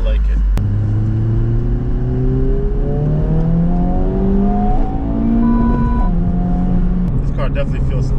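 A 2023 Honda Civic Type R FL5 accelerating hard through the gears, its engine note rising steadily and dropping at each shift, loud and close from inside the cabin with a steady road roar underneath.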